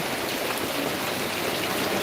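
Steady, even rain pours down nearby, a dense continuous patter with no voices.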